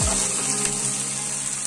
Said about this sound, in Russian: ये प्याज कटा हुआ खुद ही उड़ के मेरे फ्राई पैन में आ गया और जीरा के साथ फ्राई होने को बेताब था